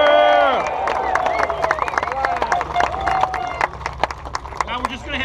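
A crowd at an outdoor steelworkers' union rally in Burns Harbor, Indiana, cheers and whistles, with scattered clapping and shouts; loud and close at first, then fading into chatter and a voice speaking over the crowd.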